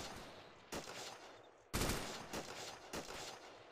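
Gunfire rattles during a military game assault on a comms tower, several sharp, echoing shots and short bursts spaced a second or so apart, moderately distant over a hissing backdrop.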